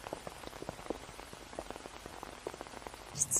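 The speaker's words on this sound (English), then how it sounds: "A little rain won't hurt." Rain patters steadily on an umbrella, a soft, close, irregular tapping of drops over a faint hiss, heard alone without voices.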